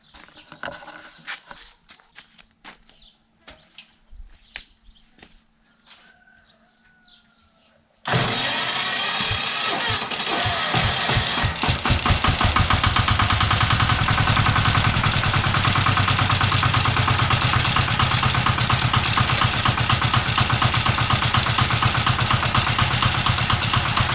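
A walk-behind tractor being prepared for garden work, with quiet clicks and handling at first, then its engine starts abruptly and runs loud and steady with a rapid chugging rhythm up close.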